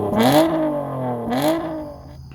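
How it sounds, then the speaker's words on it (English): Car engine with a muffler delete, 5-inch exhaust tips and a sport tune revving twice in quick succession, two loud rising roars with a throaty exhaust note settling to idle between, close and alone. "Let's fire it up and see what it sounds like. Muffler delete, 5-inch tips."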